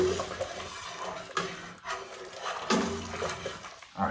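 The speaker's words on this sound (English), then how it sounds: "We'll stir these in." A spoon stirring ingredients into hot beer wort in a metal brewing pot, with close scraping, clinks and sloshing against the pot in several uneven strokes.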